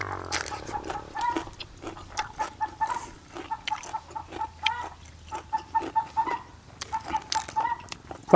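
Chickens cluck in a busy, irregular series of short, fairly close calls, with several birds overlapping across a rural outdoor setting.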